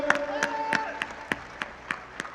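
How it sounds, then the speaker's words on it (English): Scattered applause at a crypto charity launch event, with a few loud claps spaced out over tonal background sound and a faint voice. "One more time, big applause for the official start of One Charity."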